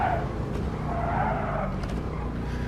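Tires of a 1978 Trans Am squeal and skid under hard braking in Gran Turismo Sport, a steady loud screech with engine and road noise running throughout the short burst.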